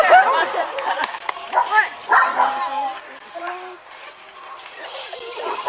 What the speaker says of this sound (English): Tell the dog to shut up.